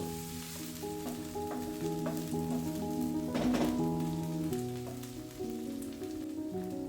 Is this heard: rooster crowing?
no